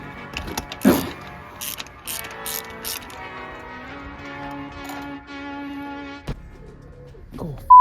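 A hand ratchet clicks while undoing the bolts on a BMW strut brace, a few quick bursts of clicking early on followed by softer mechanical creaks and turning sounds, close up with no speech.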